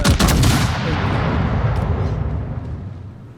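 Main battery guns of the battleship Nagato fire in World of Warships, one heavy booming salvo that rolls off into a long fading rumble, loud and with no voices.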